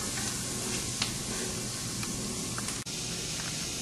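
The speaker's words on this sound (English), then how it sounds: "we added all of our vegetables and our seeds and nuts, and we've just got it sauteing while the amaranth finishes cooking" Vegetables, seeds and nuts sauteing in a pan while amaranth cooks nearby, giving a steady, soft sizzle with occasional light stirring clicks, low and continuous, no voices.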